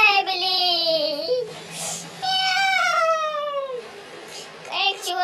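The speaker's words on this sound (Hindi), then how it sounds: "बिल्ली" A cartoon cat meows in a drawn-out, high voiced cry, followed by a second long wavering meow and a short squeak at the end, close and fairly loud, with no other talk.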